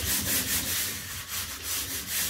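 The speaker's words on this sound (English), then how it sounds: "I'm going to start sanding" Steady rhythmic scraping of sanding dried drywall mud, close and continuous, with repeated back-and-forth strokes and no talking.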